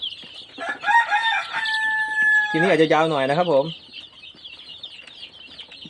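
Chickens on a chick-vaccination farm in Buriram, Thailand, cluck steadily nearby while a rooster gives one loud, wavering crow in the middle, with someone talking over the birds.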